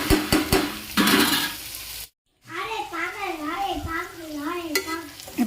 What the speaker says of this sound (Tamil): காய் கொஞ்சம் நல்லா வதங்கட்டும்.